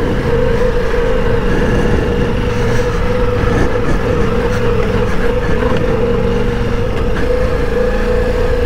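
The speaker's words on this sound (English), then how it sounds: "listen to that engine" A loud, steady engine drone from a Ducati Multistrada V4 Rally motorcycle, with a constant hum, running continuously without pause and no voices.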